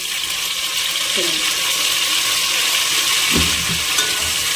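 Washed, still-wet pandan leaves go into a hot frying pan for biryani, giving a constant bright sizzle with a couple of faint voice fragments underneath.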